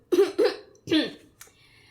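Three short, close coughs in quick succession, followed by a faint throat sound, with no talking.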